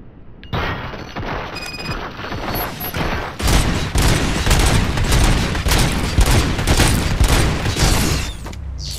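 Dense, sustained gunfire from the RoboCop: Rogue City video game, a loud continuous volley of overlapping shots and booms that builds after a brief quieter opening and keeps going to the end.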